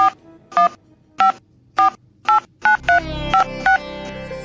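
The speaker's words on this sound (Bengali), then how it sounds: "দাঁড়াও, আমি আগে একটা ফোন করি।" A series of short electronic phone keypad tones beep one after another in a steady rhythm, loud and close, with faint background noise toward the end.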